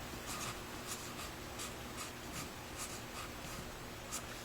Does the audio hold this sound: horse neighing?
no